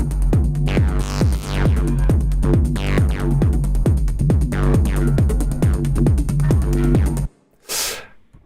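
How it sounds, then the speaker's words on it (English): A full electronic track processed with the Dist COLDFIRE panning effect, playing loud with steady rhythmic hits and sweeping, swishing tones that shift side to side, then cutting off into a brief whoosh. "because I don't want this panning effect to be too harsh in the mix"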